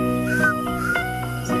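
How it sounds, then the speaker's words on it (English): Harsh, repeated calls of southern carmine bee-eaters, several short strident notes in quick succession, fairly close over a steady background hum. "southern carmine bee-eaters that I can hear calling"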